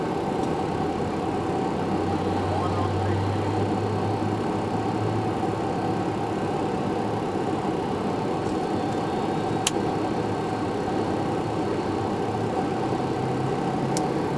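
A Boeing 757 jet engine spooling up during start: a steady, broad roaring drone with a low hum underneath, holding level throughout, with one faint sharp tick partway through.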